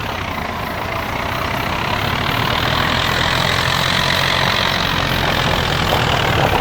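A Ford tractor idles in a farming simulation game, a steady, loud, even engine drone with no change in pace throughout.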